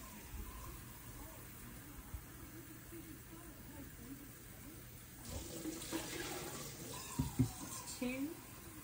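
Five cups of water poured into a pot for water bath canning pineapples splash and rush in up close, starting partway through and building over a quiet room hum.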